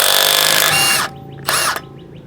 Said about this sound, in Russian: Даже на втором режиме я легко откручиваю гайку.